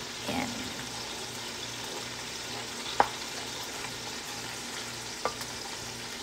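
Misua noodles with sliced patola and sardines being stirred in a pot: a quiet, soft bubbling simmer with a few sharp utensil clinks against the pot, one near the middle and another toward the end, and no voices.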